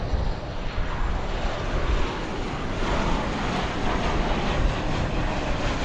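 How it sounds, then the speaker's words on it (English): American Airlines airliner, flight 2357 to Denver, at Dallas Fort Worth airport, a steady broad engine roar held at an even loudness throughout with no talk over it. "This looks to be American Flight 2357 going to Denver."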